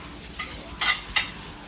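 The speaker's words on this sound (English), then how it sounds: "now we're going to add our tomatoes and the peppers to the pan" Tomatoes and peppers sizzling in a paella pan of oil with toasted garlic and chorizo, a faint steady frying hiss broken by a few brief scraping stirs.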